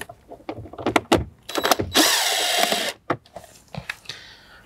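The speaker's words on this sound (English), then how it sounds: "Then we can remove 2 7mm screws." Two 7mm screws are driven out of the dash of a 2011-2018 Jeep Wrangler JK with a power driver, giving short whirring bursts, then a longer steady buzz and light clicks close by.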